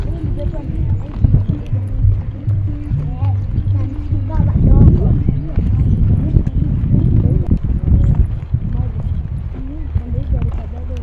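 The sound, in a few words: horses walking near Thomson's Falls, Kenya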